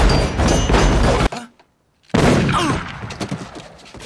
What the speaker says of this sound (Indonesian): Porter berhasil selamat dari gempuran peluru berkat berlindung di balik tubuh Arthur